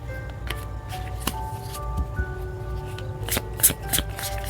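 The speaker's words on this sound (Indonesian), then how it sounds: "Wow, banyak kartu terus ya." Tarot cards are shuffled by hand, a run of crisp riffling and flicking bursts with brief pauses between them, close and clear with no talking.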